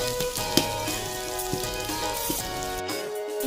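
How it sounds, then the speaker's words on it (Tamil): Chopped onions sizzle and crackle steadily in hot oil in a pan while cooking for mutton biryani, a soft continuous frying hiss with small pops, fading out at the end. "வெங்காயத்தை போட்டு நல்லா வதக்கணும்."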